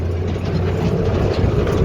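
A combine harvester cutting maize runs loud and close, a steady low engine drone with continuous mechanical rattling over it.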